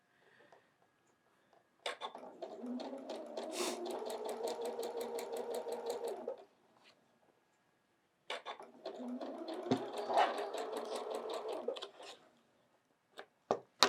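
A sewing machine stitches quilt blocks in two steady runs of rapid mechanical whirring, each lasting several seconds, separated by a brief pause, close and clear with a few small clicks at the end.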